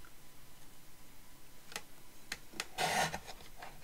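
A paper trimmer slices through kraft paper at a crafting desk, giving a few short scraping strokes and then a louder rasping cut near the end, close and fairly quiet against a soft background hiss.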